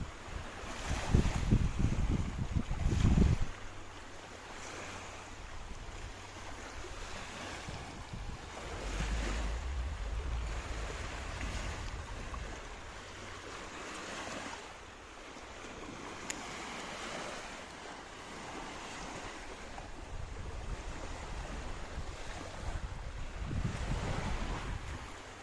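Sea waves wash steadily at Hoi Ha Wan bay in Sai Kung, with gusting wind buffeting the microphone and a low rumble that may come from a nearby boat.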